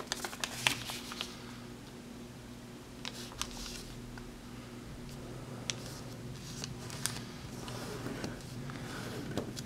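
Paper being folded by hand for an origami lollipop, soft crinkles and sharp creasing snaps scattered over a steady low hum, quiet and close.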